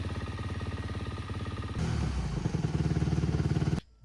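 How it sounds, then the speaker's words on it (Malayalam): A KTM 350 EXC-F enduro motorcycle engine runs steadily at a Supercross racing league event in Kozhikode, with a pulsing idle that rises into a louder, busier rev before cutting off abruptly near the end. "350cc ലോ വെയ്റ്റും ഹൈ പെർഫോമൻസും ആയിട്ട് വരുന്ന ഒരു എൻഡ്യൂറോ മോട്ടോർ സൈക്കിളാണ് KTM 350 EXC-F"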